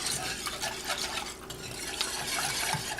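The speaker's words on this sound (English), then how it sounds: "we'll take out our handy dandy whisk because we really don't want lumps" A wire whisk beats a milk mixture in a pan with steady, rapid scraping and stirring, close and continuous, with faint metallic clinks and no voices.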